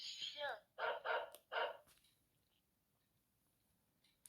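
Three quick recorded dog barks from a children's sound book ring out close and bright, followed by quiet.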